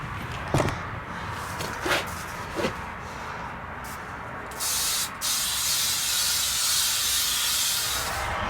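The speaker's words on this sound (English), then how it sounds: "So now we're gonna spray adhesive it and put it up in there for good." Several short hissing bursts of spray adhesive early on, then a longer, steady aerosol hiss that runs continuously to the end, close to the microphone, while fitting insulation in a Ford Transit van.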